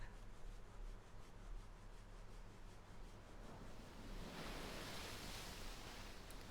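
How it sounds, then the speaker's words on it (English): Sea waves crash and surge under a breezy wash of wind in the visual novel game Umineko, a continuous broadband roar that swells louder toward the end, steady and alone without talk. "The sound of crashing waves, the sound of the tide surging, the noise of the sea breeze."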